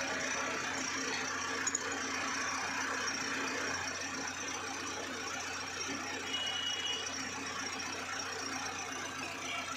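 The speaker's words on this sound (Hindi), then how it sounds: "इंजन ऑन है दोस्तों गाड़ी का," Car engine idling steadily at a steady, moderate level during a wheel alignment check at a workshop, with a constant hum and faint mechanical noise and no voices.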